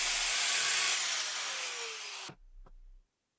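Hand sawing with a power-tool-like rasp into a used oil filter housing bolt on a Yamaha SR250 motorcycle, a steady loud metallic grinding for over two seconds that cuts off abruptly, followed by a brief clatter.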